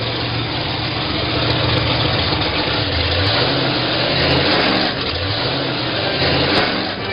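A car engine runs loud and steady at a rough idle-like drone with a faint mechanical whine throughout, wheels spinning in a late-night TV movie scene, with no speech over it.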